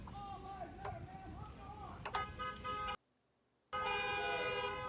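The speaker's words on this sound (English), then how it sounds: "Honk your horn, ma'am." Car horns honk at a street march in Tulsa, Oklahoma, with a wavering toot, a sharper blast and then a long sustained horn, heard amid traffic noise and voices, with a brief dropout in the middle.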